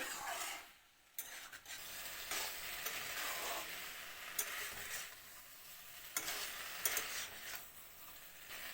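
Pui shak chorchori with potatoes is stirred in a pan, a faint, steady sizzle with soft scraping and rubbing strokes after a brief lull near the start.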